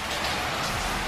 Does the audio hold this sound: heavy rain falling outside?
yes